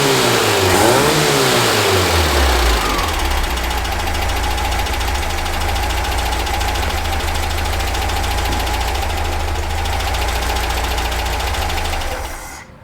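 A VW Baja Bug engine runs after distributor timing and carburetor tuning, revving briefly at first and then settling into a loud, steady, even idle close by, with no talking.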